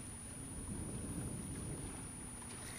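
Sailboat moving at about four knots over a flat sea off Tunisia, near Cap Bon and Zembra island, a steady low rush of water and wind buffeting the microphone, with a faint constant high tone above.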